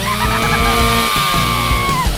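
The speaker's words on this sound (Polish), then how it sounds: "Pomoże mi w tym piła." A saw cutting through a candy bar gives a loud, continuous droning whine with a steady pitch and slight pulsing throughout, with no talking.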